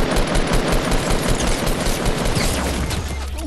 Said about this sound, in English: People are shooting.